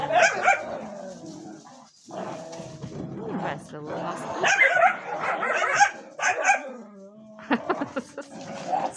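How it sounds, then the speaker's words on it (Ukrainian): A dog barking, yipping and whimpering upstairs, bursts of sharp barks mixed with whiny yelps, fairly close, while a person talks over it. "сидить наверху і гавкає"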